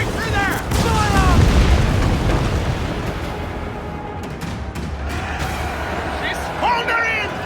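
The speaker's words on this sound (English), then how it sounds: "Fire! Cannon! Fire!" Ship cannons fire in an Assassin's Creed Black Flag naval battle, making heavy booming blasts and crashing impacts over continuous battle noise, with crew voices shouting through it.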